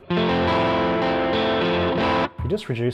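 A distorted electric guitar chord, played through a Line 6 HX Stomp with the fourth pickup position wired out of phase, rings out with a thin, hollow, phasey tone for about two seconds, then a few shorter picked notes follow.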